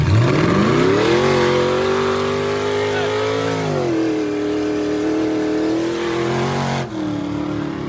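A deep 6.0-litre gas V8 truck engine revs up into a loud, steady rumble, holds there for a few seconds, then drops slightly. The sound is close and continuous, with no talking.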